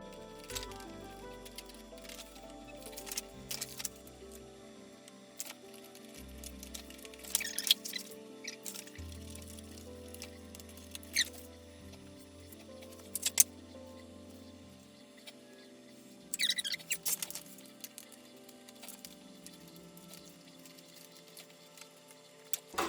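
Scissors trim a sheet of Monstera-pattern shelf and drawer liner, making scattered soft clicks and snips close by. A steady tonal background runs underneath and nobody talks.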